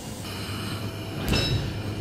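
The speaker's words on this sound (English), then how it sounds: "S123 now departing platform" Suburban passenger train departing a station platform, a steady rumble of rolling stock with a brief high squeal of wheels partway through, heard up close without talk.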